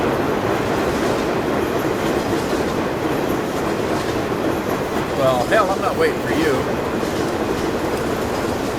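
A train rolls past steadily in a Nebraska farming video game, a continuous rumbling rail clatter with some brief squealing midway, while someone talks over it.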